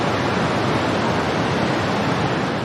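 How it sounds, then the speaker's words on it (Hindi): The Saraswati River's flowing water, a loud, dense, unbroken rush that holds level from start to finish. "आप सरस्वती नदी की आवाज़ सुन लीजिए"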